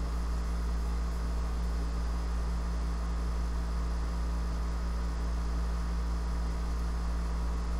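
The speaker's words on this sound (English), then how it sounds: "I am very sorry for the AC noise." Loud, steady air conditioner hum fills a home office, a newly installed unit running constantly with a strong low drone and broadband hiss for the whole stretch, no voices.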